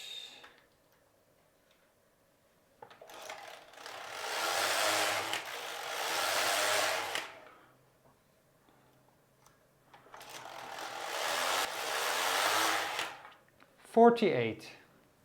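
A Passap Duomatic 80 knitting machine knits a simple child's sweater; its carriage makes two long rushing, rumbling passes separated by quiet, ending with a brief sharp clatter.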